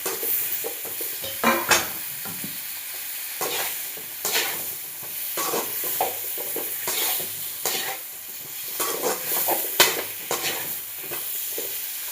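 Curry leaves crackling and sizzling in hot oil for sambar, with a continuous frying hiss broken by repeated scraping stirs against the pan, close and without talk.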